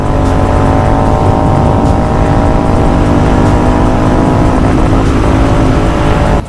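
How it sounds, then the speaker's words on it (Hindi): A Continental GT 650 motorcycle with a loud aftermarket exhaust roars steadily at close range, a sustained, rough, throbbing engine note that stays strong throughout. "एग्जॉस्ट का भाई साउंड तो बहुत सही है लग रहा है"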